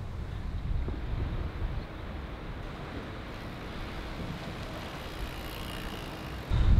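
Steady, loud wind buffeting the microphone while cycling outdoors on a road bike, a dense roar that holds constant for several seconds and swells into a stronger gust at the very end.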